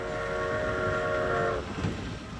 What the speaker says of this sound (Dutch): een treintje die hier rondrijdt op het vakantiepark om de kinderen te vermaken